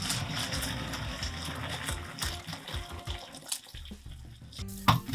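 Water pours and splashes steadily as boiled dumplings are drained into a sink, with clattering and bumps near the end.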